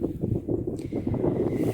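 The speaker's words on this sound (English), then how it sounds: "it's a cold day, it's windy, cold wind outside." Steady low rumbling cold wind buffeting a microphone outdoors in a village, continuous and fairly loud throughout.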